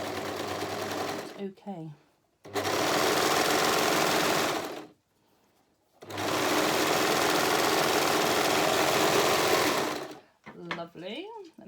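A sewing machine stitches over the double seams and interfacing of a romper. It makes two long, steady mechanical runs separated by a pause, with a voice speaking briefly between and after the runs.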